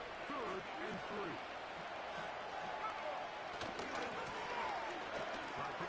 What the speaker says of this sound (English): The noise very loud from the crowd